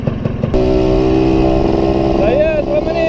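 A newly bought Aji Auto motorcycle on a test ride gives a loud, close engine hum with steady tonal whine and a pitch rise near the end, while a voice talks over it.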